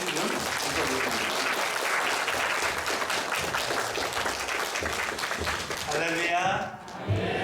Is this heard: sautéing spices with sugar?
no